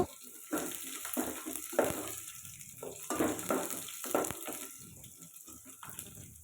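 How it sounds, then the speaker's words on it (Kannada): Garlic frying in oil after mustard seeds for a ground horse gram sambar, giving a soft sizzle with intermittent bursts of crackle and stirring clatter, fairly quiet and close. "ಬೆಳ್ಳುಳ್ಳಿನ ಸೇರಿಸ್ಕೊಂಡು ಸ್ವಲ್ಪ ಕಲರ್ ಚೇಂಜ್ ಆಗೋವರೆಗೂ ಫ್ರೈ ಮಾಡ್ಕೋಬೇಕು"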